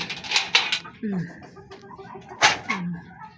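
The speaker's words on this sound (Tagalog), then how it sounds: "Mga manok ko matatapang." Backyard chickens, including a hen that lays in her coop, cluck in short bursts between loud bursts of nearby talk.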